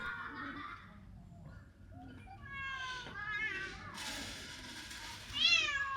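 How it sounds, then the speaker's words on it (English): Several cats on a Japanese cat island meowing while waiting for their lunch, overlapping rising and falling mews near and slightly apart, with a louder cry near the end and faint background voices. "And soon after, more and more cats arrived,"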